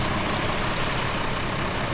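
A tractor engine in a video game runs steadily close by, a dense continuous rumble with no breaks or pitch changes.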